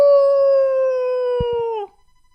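A human voice imitates a wolf howl, one long sustained steady tone that holds loud and close, then drops off sharply into silence.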